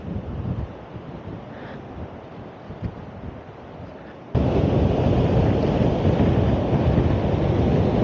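Strong wind buffets the microphone at the shore in Tarifa, with large waves surging and roaring underneath; the rumbling wind noise jumps louder halfway through and stays heavy, with no voices.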